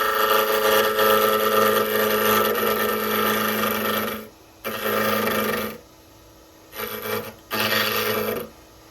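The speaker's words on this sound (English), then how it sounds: "I'm going to be doing that with my skew chisel" A skew chisel cuts a wooden spinning-top blank turning on a lathe, giving a steady close scraping hiss that runs for several seconds, then breaks off and resumes in three shorter passes.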